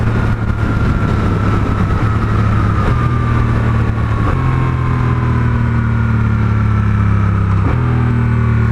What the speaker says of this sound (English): I love the way it sounds when it downshifts like that